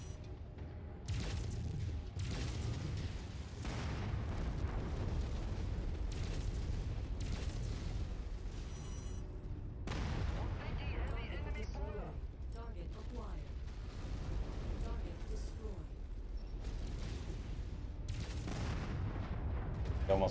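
Mech weapons fire and explosions in MechWarrior 5 Mercenaries, heavy booming volleys and blasts recurring every few seconds over a constant mechanical rumble, with a voice talking at times.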